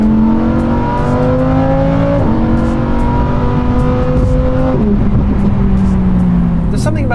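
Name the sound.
Lamborghini Huracan Evo V10 engine revving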